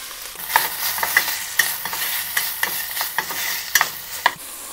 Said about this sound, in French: je vais rajouter des oignons